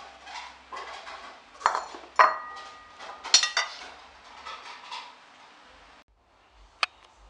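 Boiled meatballs scooped into a prepared dish: scattered clinks and scrapes of utensil against dishware, several sharp taps in irregular rhythm, close and moderately loud, followed by a quiet pause and one final clink.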